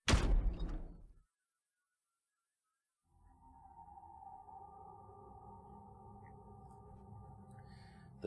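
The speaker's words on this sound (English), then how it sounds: "We repeated the process 2 more times before we finally reached the final door and opened it." A decompression chamber door opening in Virtue's Last Reward: a sharp mechanical clunk, then silence, then a steady low droning hum with a sustained tonal whine as the door stays open, no voices.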